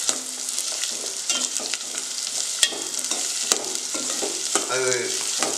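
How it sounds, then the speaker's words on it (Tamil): Garlic and shallots sauté in a pan for manathakkali soup, giving a steady, close hiss of frying with occasional stirring scrapes and light taps of the spoon, no talking. "பூண்டு சின்ன வெங்காயம் வதங்கி வாரணும்"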